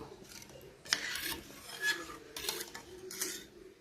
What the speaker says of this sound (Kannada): ಸೊ ಇವಾಗ ಈ ಥರ ನಾವು ತಿರುಗಿಸ್ತಾನೇ ಇರಬೇಕು ಇದನ್ನು, ಇಲ್ಲದೆ ಹೋದರೆ ಗಂಟುಗಳಾಗ್ಬಿಡತ್ತೆ